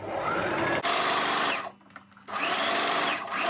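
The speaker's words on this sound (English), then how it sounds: "take my fabric to my sewing machine and stitch it down from the point 14 to the point 11" A sewing machine stitches fabric for a double-loop instant hijab, running in a loud steady whir, stopping briefly in the middle, then starting again and running on to the end.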